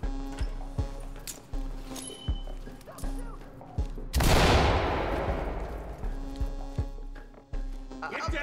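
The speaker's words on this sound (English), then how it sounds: "we'll pop a flashbang in there" In the video game Ready or Not, a flashbang grenade bursts indoors with one loud sharp blast and a long hissing ring-out. Rhythmic thuds repeat before and after it, and voices talk during the clip.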